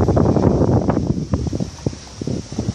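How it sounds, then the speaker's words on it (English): Strong gusty wind buffets the microphone in an outdoor park by moving water, a loud, uneven rumble that swells and dips with each gust, with no talk. "It's too windy guys"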